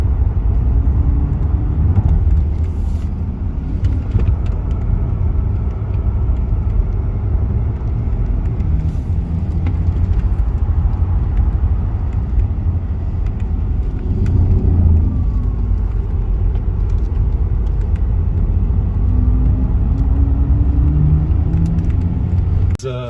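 Audi RS e-tron GT, a 640 hp four-door electric car, accelerating hard on a race track, heard as a loud continuous low rumble and whir from inside the cabin, steady throughout with occasional faint knocks.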